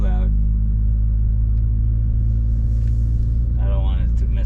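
A 2014 Chevy Cruze 1.4 RS with a 3-inch exhaust cruises through an apartment complex, its steady low engine rumble heard from inside the cabin, with brief talk at the start and end.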